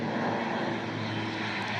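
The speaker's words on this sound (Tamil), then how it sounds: "ஃப்ளைட் லேண்ட் ஆக போகுது" A fixed-wing airplane coming in to land in the Seychelles roars steadily overhead, a loud, continuous engine drone with no pauses and no talk.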